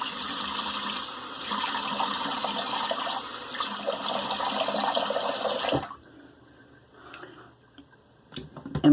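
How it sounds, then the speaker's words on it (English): Tap water runs steadily and fairly loud for a cold rinse of the face during a wet shave, then stops abruptly near the end, leaving faint handling noises before a brief knock. "Okay, cold water rinse."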